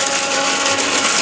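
A low-cost electric blender machine whirs at high speed in a short, loud, continuous burst of motor whine, close up and with no voices.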